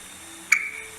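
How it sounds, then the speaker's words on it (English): A single sharp pop from hydrogen gas igniting near a burning candle rings out from near-silence, followed by a brief fading hiss. "that sound is called as pop sound"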